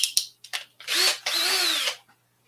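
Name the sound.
power drill drilling holes for a pinball ramp template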